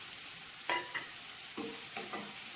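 Green chillies sautéing in a pan for crab gravy, giving a soft, steady sizzle with a few scraping stirs and light clinks near the start.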